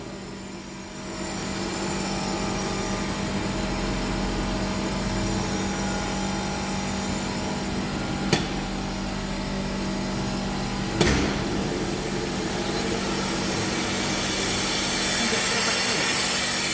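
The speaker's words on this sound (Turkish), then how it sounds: "şu anda kompresörü çalıştıralım" An air compressor runs with a steady, loud mechanical hum and drone for the whole stretch, broken by two brief sharp clicks partway through, with no talk over it.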